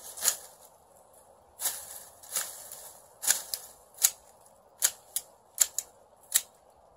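Pruning shears cutting shrub branches outdoors, giving a series of sharp, close snips at irregular intervals, some crisp and isolated, others in quick pairs.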